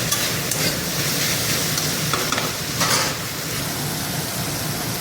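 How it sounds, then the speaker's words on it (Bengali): Onion, chilli and garlic frying in a pan for a small-fish chorchori, a loud, dense, even sizzle throughout with light stirring scrapes and no speech. "তার জন্য পেঁয়াজ, লঙ্কা, রসুন এগুলো ফ্রাই করছি"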